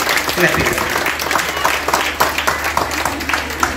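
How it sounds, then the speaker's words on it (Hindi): Audience applause for children at a school's annual results prize-giving ceremony, a steady wash of many hands clapping throughout, fairly close and loud, with a voice faintly audible underneath. "ये तमाम बच्चे आपकी तालियों का, आपकी अप्रिसिएशन का हक रखते हैं।"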